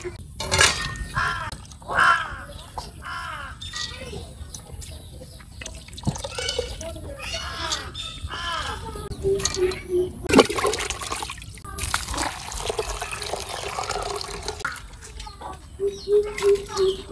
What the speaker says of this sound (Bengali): চাল ভাজাগুলো আমি সুন্দর করে ধুয়ে নিছি